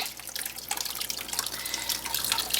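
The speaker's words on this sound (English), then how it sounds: "You just want to gently take some very hot water, this is sitting at about 170, and just sprinkle it across the top here." Very hot sparge water at about 170 degrees being gently sprinkled over the grain bed while brewing an all-grain Irish stout; a steady close spattering and dripping of water throughout.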